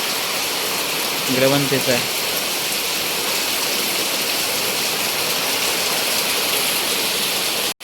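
A constant, close wash of heavy rain hammers metal roofing sheets in a windy night storm, with a brief spoken remark near the start and the downpour running on alone afterward.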